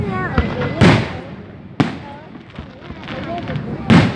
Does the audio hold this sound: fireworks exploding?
yes